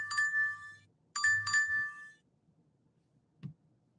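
A phone gives two bright, ringing notification dings in quick succession, the second chime layered and lingering, followed by a short dull knock in an otherwise quiet room.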